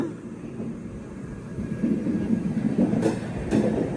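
A passenger express train with an LHB rake rumbles along steadily with low, continuous rolling noise that swells toward the end, joined by a couple of brief bright hissing bursts.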